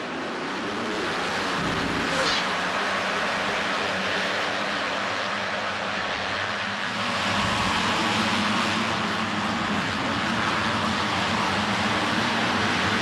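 A pack of KTM motocross motorcycles racing at the start at RedBud in 2008: a loud, continuous, blended roar of many engines that swells slightly midway, heard at some distance with wind-like rushing and no talking.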